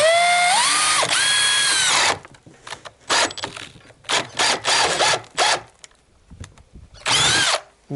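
Power drill boring a hole into a 2x4 wooden board, a loud close whine rising in pitch for two seconds, then choppy short bursts of drilling and ratcheting, ending with one more sustained run.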